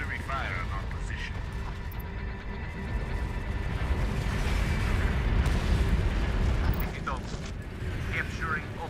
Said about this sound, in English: Artillery fire on our position.